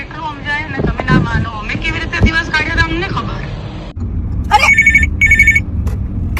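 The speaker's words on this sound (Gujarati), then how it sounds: "કાજુ કતરી નો ફોન આવ્યો" Telephone rings with an incoming call, electronic ringing bursts in two quick pulses following a stretch of talking, heard close and fairly loud.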